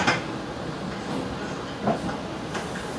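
A Jayakarta train pulls into Lempuyangan station with a steady, loud rumble of wheels and carriages, broken by a few sharp clanks and knocks from the rolling stock.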